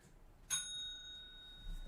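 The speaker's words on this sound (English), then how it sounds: "we need to ring the bell" A single bright ding of a small bell, struck once and ringing out with a clear sustained shimmer that fades over about a second, faint and alone.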